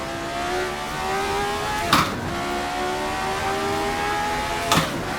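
A Formula 79 race car at Canadian Tire Motorsports Park in a sim racing game, its engine droning at steady revs with two sharp upshift blips, loud and continuous.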